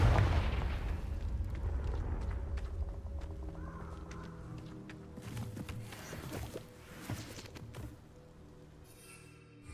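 A Confringo fire spell blast from the game Hogwarts Legacy opens with a loud burst, then a booming, crackling roar that slowly fades. No one speaks.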